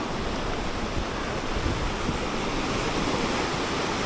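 Waves roll onto a clear-water Konkan beach at Kunkeshwar near Devgad, a steady broadband wash of surf mixed with wind noise on the microphone, continuous and fairly close, with no talking.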